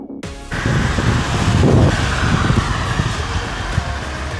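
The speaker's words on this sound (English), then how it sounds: "now it's full of trucks. You have to be careful because they're so fast" Heavy trucks rush past fast on a rainy road in Taiwan, heard from a bicycle on a touring trip. A loud, steady roar of tyres and wind swells around the middle, with constant wind buffeting the microphone.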